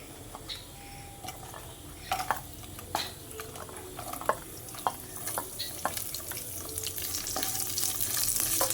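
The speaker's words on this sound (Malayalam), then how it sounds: "അപ്പോൾ ഇതൊന്ന് മൂത്ത് വരാൻ നേരത്ത് നമുക്ക് തേങ്ങാക്കൊത്തി ചേർക്കാം." Pork and coconut slices fry in a pan with a soft, steady sizzle, punctuated by scattered clinks and scrapes of stirring that grow denser and louder toward the end.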